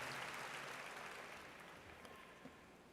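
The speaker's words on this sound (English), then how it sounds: "So let's give our speaker another round of applause for an incredible message that inspires us to go forward." A crowd at a North Carolina A&T State University spring commencement ceremony applauds the speaker in a distant, hall-filling patter that gradually fades.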